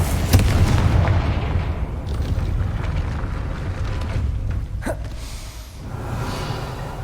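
A Confringo spell blasts in Hogwarts Legacy, giving a deep booming explosion with rumbling low-end crackle. It starts near the beginning and fades over several seconds, with a brief whooshing burst near the end and no talking.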